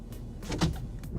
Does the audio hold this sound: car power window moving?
yes